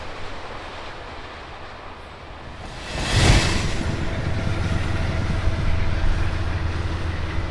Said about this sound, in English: the train now picks up speed as it rolls through Riverdale,